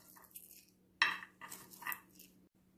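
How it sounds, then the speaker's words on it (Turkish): Hazelnuts are peeled by hand in a home kitchen: a few short rustling scrapes and one sharp clinking knock against a bowl, set over a low steady hum. "Şimdi bunları güzelce soyup hazırlayacağım."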